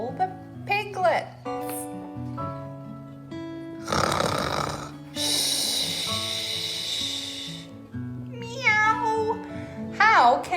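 A woman reading a children's picture book aloud voices a dog's loud, rasping snores with long breathy pulls, then switches to a cat's meowing voice; storytelling speech surrounds the imitation.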